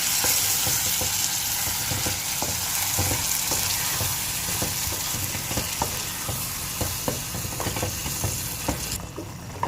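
Ground garlic curry paste frying in a pan while it is stirred, giving a loud, continuous sizzle with regular scraping knocks from the stirring throughout.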